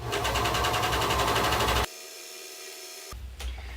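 A sewing machine runs fast stitching a seam on men's slacks, a steady rhythmic whirring motor buzz that stops abruptly, followed by a quiet pause and a brief short burst of stitching.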